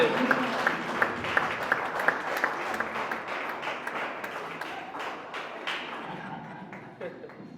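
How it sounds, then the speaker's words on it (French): An audience at a sermon claps and cheers in a dense, sustained wash of applause, with sharp hand-claps popping out above the crowd noise before it slowly thins and fades near the end. "Est-ce qu'on peut acclamer très fort?"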